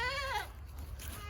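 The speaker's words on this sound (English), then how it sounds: "Move these 3 goats that I purchased." Goats on a ranch, among a group of three, let out a short wavering bleat close by, followed by quiet outdoor background.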